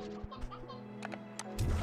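A sea hen creature in a video game clucking, a few short, quiet chicken-like clucks over faint game background sounds.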